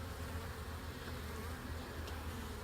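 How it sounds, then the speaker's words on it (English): Bees swarming over a frame pulled from a painted hive, holding nectar and pollen, make a steady, dense, close buzz that runs unbroken and evenly loud with no voices. "full of bees."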